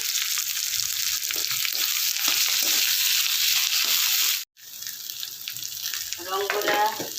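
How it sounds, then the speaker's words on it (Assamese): Boiled potatoes being stirred in a hot pan hiss with a steady bright sizzle and the scrape of a spoon, close up, briefly cut off by a short gap near the middle before resuming. "তাৰপিছত বইল কৰা আলুখিনি দি দিলোঁ, অকণমান লৰাই দিম"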